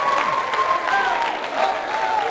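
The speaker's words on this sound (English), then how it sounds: "Round of applause for this person right here." Audience at a school substance-awareness talk applauding for a person, a sustained, fairly even round of clapping from a crowd indoors.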